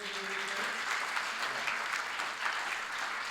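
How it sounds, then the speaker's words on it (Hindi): A large gathering applauds the arrival of a revered guru, a continuous, even roar of clapping; a faint voice trails off at the very beginning beneath it. "एक बार तालियां होनी चाहिए।"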